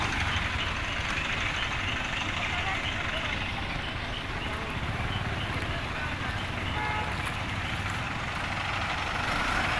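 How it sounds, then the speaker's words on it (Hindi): A hydra crane's heavy diesel engine rumbles steadily at idle throughout while towing a heavy load on a road, a continuous low drone with broadband mechanical noise and no distinct pauses. "अब ये हाइड्रा आ चुकी है, अब हाइड्रा के साथ इसको खींचा जाएगा।"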